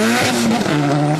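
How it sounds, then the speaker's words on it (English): A Nissan S13 drift car at a drift competition, its engine loud and close, holding a strained high note that dips and climbs again as the car slides through a corner. "He starts a decent drift into the sweeper"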